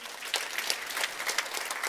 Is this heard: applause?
yes